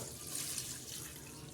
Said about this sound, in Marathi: आपण सर्वात प्रथम ही भाजी धुवून घेणार आहोत